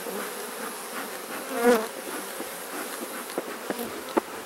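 Honey bees buzz around an open beehive during an inspection, a dense close drone with a louder bee passing near, plus a few faint clicks toward the end, without speech.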